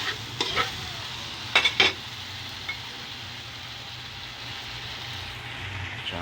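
Frying food sizzles steadily in a pan for a pork humba dish, with a few short scraping clatters of stirring near the start and a low background hum throughout.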